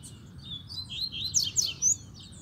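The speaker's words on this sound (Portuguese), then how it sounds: "O Bradock tá fiotando e mandando" A caged double-collared seedeater (coleiro) sings a quick run of bright, high chirps in a short burst over a low, quiet background hum.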